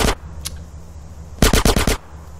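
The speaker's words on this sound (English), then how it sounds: "Excuse me, I'm busy shooting here." Gunfire in Grand Theft Auto San Andreas: a single loud shot, then a faint one, then a rapid burst of about six close, sharp shots fired in quick succession, with no talking.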